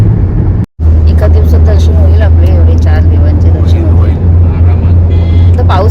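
A car drives through a road tunnel on the way toward Lonavala, with a loud, steady low rumble of engine and road noise and people talking over it.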